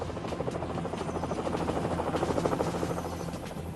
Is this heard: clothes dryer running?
no